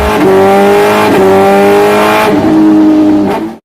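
A powerful superbike engine revs loud and close, its pitch climbing in repeated surges broken by quick gear changes, then cutting off abruptly.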